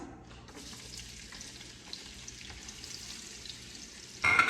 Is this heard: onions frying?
yes